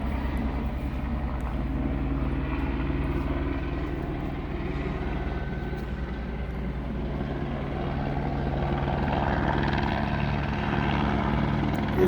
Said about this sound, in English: it's not a water drop, just a police helicopter